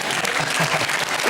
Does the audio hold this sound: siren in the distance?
no